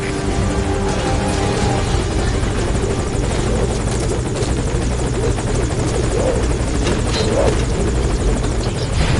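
Helicopter idling at a landing zone in Metal Gear Solid Ground Zeroes, its loud, constant rotor roar and buzzing engine filling the whole stretch without a break.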